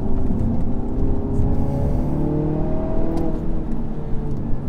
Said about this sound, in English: Into second and then give it some beans.